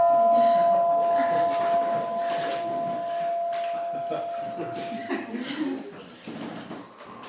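A bell rung during a talk in Edinburgh, Scotland, gives a single sustained ringing tone that fades over about five seconds. Voices and a little laughter from the room carry on beneath it and after it.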